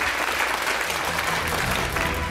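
A studio audience at a quiz show gives steady applause for a contestant and a teacher, a dense, even wash of many hands clapping without pause.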